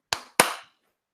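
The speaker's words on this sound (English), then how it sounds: "Will you do a clap with me?" Two sharp hand claps in a quiet room, used to sync a podcast recording, heard close and loud, a quick pair about a quarter second apart, followed by silence.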